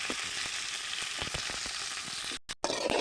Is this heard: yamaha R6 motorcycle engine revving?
no